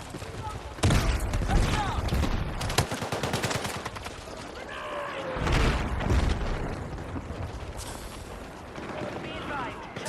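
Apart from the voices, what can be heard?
frag grenade thrown and exploding in a video game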